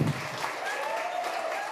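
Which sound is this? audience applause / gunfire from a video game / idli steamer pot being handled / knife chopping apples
audience applause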